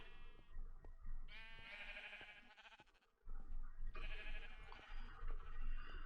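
Sheep in a farming video game bleat in two long wavering calls, one after another with a short gap, over a faint background bed.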